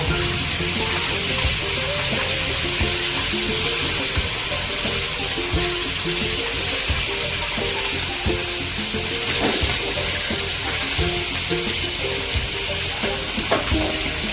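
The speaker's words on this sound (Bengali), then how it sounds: "মাছটা ঢাকা দিয়ে ভাজবো। মাছের একটা সাইড হয়ে গেছে," Fish frying in a covered pan for a Bengali fish curry, a loud, dense, continuous sizzle and hiss close by, with faint clinks under the steady frying.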